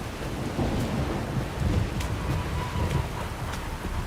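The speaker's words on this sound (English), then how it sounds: "Raining again." Steady rain pours continuously in the video game The Witcher 3, with a dense low rumble beneath and faint thunder-like swells, no voices.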